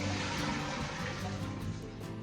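Water gushes and splashes steadily, a continuous rushing pour draining away from washed potatoes, close by with no voices.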